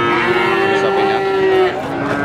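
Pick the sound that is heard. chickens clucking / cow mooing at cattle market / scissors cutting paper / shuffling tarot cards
cow mooing at cattle market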